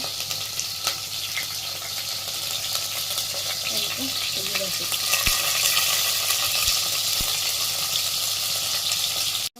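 Green chillies and onion sizzle in hot oil in a pan, a continuous close frying hiss with faint stirring. A few sharp clicks break through, and the hiss grows slightly louder midway.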